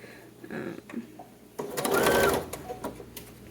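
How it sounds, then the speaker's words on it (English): A sewing machine stitches an invisible zipper into a vintage-inspired summer dress, with a few soft starts, then a steady buzzing run of about a second at close range. "Invisible zipper. I ironed it as per the instructions. I'm going to sew it."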